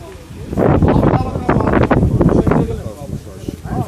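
Strong wind gusting through the streets of Nor Nork after a thick tree was torn out by its roots and a power pole knocked over, a loud rough roar with buffeting against the microphone while people talk over it.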